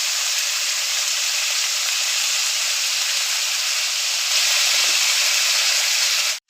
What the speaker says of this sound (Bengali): এঁচোড় ভেজে নিচ্ছি, সেদ্ধ করা এঁচোড়টা ভেজে নিব ভালো করে।